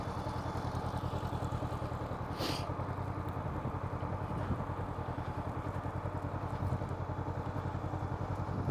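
A motorcycle rolls at walking pace through low-speed balance and U-turn drills on a riding training lot, its engine a steady low putter close by, broken by one brief rattle.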